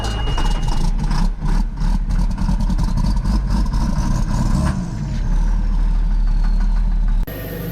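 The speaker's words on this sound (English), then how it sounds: "We got that tractor warming up." A farm tractor that has just been started runs at idle on a 23-degree winter morning, a loud, steady low engine rumble with a whine that rises partway through before a brief change near the end.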